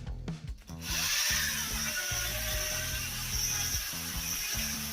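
A power drill whirs steadily with a polishing pad rubbing against a car headlight lens, a continuous grinding buzz with slight pitch dips as pressure changes.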